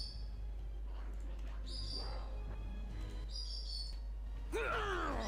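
Small pet birds chirp in a quiet indoor room, faint high tweets repeating every second or so, then a brighter, louder warbling call near the end, distant from the microphone.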